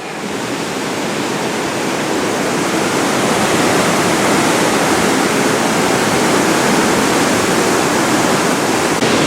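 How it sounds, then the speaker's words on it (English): Loud, continuous roar of a waterfall in the Lauterbrunnen valley floor, Switzerland, a dense steady rush of water with no other sounds over it. "Here we are at our last waterfall until we go to Staubbach."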